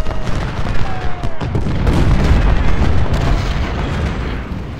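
Cannon artillery fire in the Civil War strategy game Ultimate General: Civil War, a loud sustained barrage of overlapping booms and rumbling volleys rolling continuously across the battlefield.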